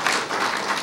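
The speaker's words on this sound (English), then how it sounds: "Their applause." Sustained crowd applause ending a talk at the HOPE X hacker conference, 2014: a continuous, even patter of many clapping hands filling the room, close and fairly loud, with no voices over it.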